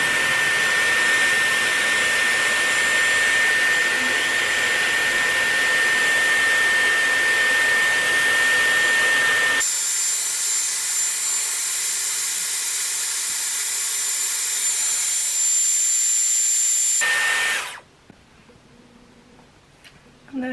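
A Dyson Airwrap hair styler blows hot air steadily while curling hair, a loud continuous whoosh that changes tone partway through, then cuts off abruptly near the end.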